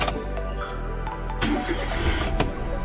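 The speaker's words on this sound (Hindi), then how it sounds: "DRL को हम ऑन करते हैं, अपनी कार को स्टार्ट करते हैं" Maruti Alto 800 car engine cranking and starting up, a short steady mechanical rumble with brief starter bursts, close and moderately quiet, no talk.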